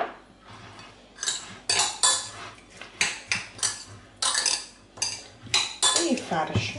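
Zucchini stuffing mixed in a bowl, a series of irregular scraping and clinking strokes of a utensil against the bowl, close and fairly loud, with quieter pauses between bursts.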